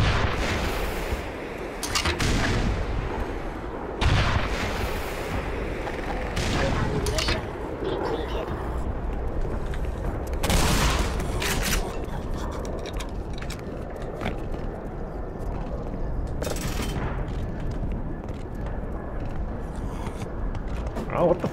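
Rocket launcher blasts and gunfire in the game Black Mesa: Xen, loud booming explosions and sharp bursts recurring throughout amid shifting noise, with a voice talking intermittently over the action.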